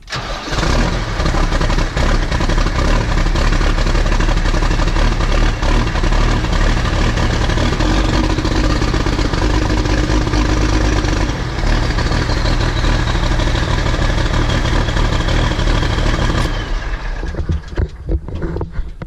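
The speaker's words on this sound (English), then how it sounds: "take a look at this exhaust when the tractor starts up." A New Holland TS115A tractor with an exhaust problem cranks and fires, then runs at a loud, rough, steady idle close by for a long stretch before the sound drops off abruptly near the end.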